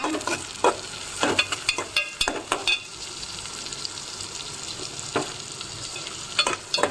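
Ingredients fry in peanut oil in a pan for dried shrimp gongura, a steady sizzle broken by repeated sharp scraping stirs, close and without speech.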